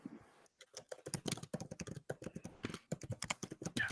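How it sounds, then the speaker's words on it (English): Rapid typing on a computer keyboard, a dense irregular patter of clicks close to the mic with brief pauses, heard alone without talk. "I love hearing Fitz type right now"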